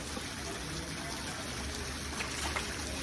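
Water keeps trickling and dribbling steadily from a tap that has been shut off, a soft continuous flow close by with no talk over it.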